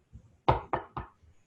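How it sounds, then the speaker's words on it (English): Three firm, evenly spaced knocks on a wooden door ring out close and clear, preceded by a soft tap, with silence around them. "He knocked at the door."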